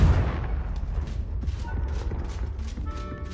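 The Confringo explosive spell blasts in Hogwarts Legacy, opening with a loud low boom that rolls into rumbling, crackling debris over game ambience.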